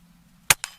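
A Hatsan Jet 2 .22 air pistol fires one shot: a sharp, loud crack followed a split second later by a smaller second snap, with quiet background on either side.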